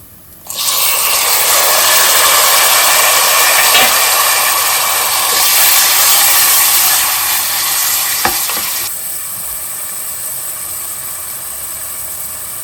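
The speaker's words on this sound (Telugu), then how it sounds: "ఇందులో టమాటా ముక్కలు వేసేసి కొంచెం వేయించాలి" Tomato pieces frying in hot oil with browned onions for a mushroom tomato curry, a loud steady sizzle that drops to a quieter simmer near the end, with no talking.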